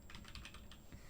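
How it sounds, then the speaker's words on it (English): A computer keyboard struck with a quick burst of clattering key hits, close but fairly quiet, with no voices. "kind of slammed my keyboard there on accident"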